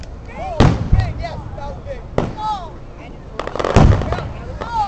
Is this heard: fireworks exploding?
yes